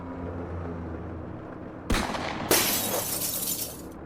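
A gunshot fired through the top of a glass window shatters it completely: a sharp crack and burst of breaking glass, followed a moment later by a second loud crash and a spray of falling shards against a low rumbling background.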